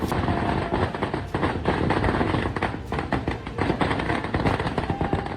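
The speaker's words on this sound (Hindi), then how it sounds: "जमकर आतिशबाजी की गई।" Rapid, dense crackling bursts of celebratory fireworks in Bengal pop and bang continuously, loud and close, with overlapping explosions throughout.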